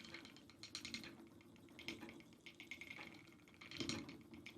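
An antique spinning wheel twists long wool fibers into thread, giving faint, irregular clicking and creaking mechanical sounds with soft rushing in between, close but quiet and free of speech.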